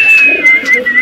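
A Rampuri pigeon coos close by, a loud, steady throaty murmur lasting the whole moment with no other sound around it.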